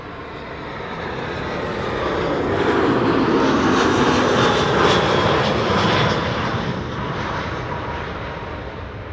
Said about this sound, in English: SAS coming in next.